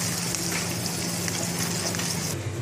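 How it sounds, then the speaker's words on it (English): Onions roasting in hot oil with garlic in a pan, giving a steady, dense sizzle that holds loud and even from start to finish with no talk. "Here we are roasting the onions."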